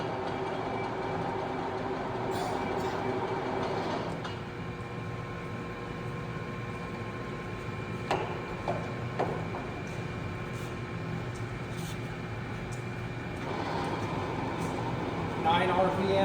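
A Leblond 20-inch lathe runs steadily in low gear at 154 RPM, giving a continuous mechanical hum with a few brief knocks, while a person speaks over it.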